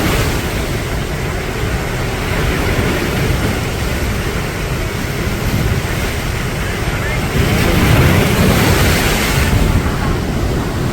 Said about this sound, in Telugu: ఫుల్ ఫ్లోలో ఉన్నాయి వాటరు. అన్ని గేట్లు వదిలిపెట్టిండ్రు.